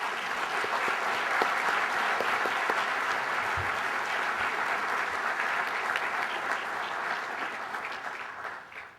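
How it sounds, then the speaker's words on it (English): A room full of people applauds Chamber Award winners at a morning business awards event, a dense, steady wash of clapping that holds loud for several seconds before tapering off at the end. "So can we please have a round of applause for all the Chamber Award winners?"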